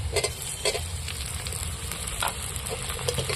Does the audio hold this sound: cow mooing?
no